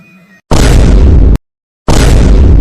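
A cartoon firecracker bomb goes off at Diwali in two loud, sudden bursts separated by a brief silence, following a few faint tonal sounds at the start.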